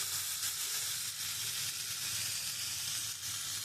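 Water poured into a hot pan of fried fish roe with potol, producing a steady, fairly soft hissing sizzle that continues evenly throughout, close by, no talking.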